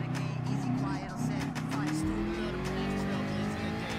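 BMW M6 race car in Gran Turismo Sport, its engine droning loud and steady with a rising pitch as it accelerates, some tire squeal and a voice talking over it.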